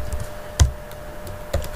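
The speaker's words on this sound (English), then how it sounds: "you can also type any name here" A wallet name is typed on a computer keyboard. A few sparse, close key taps click against a quiet room with a faint steady hum.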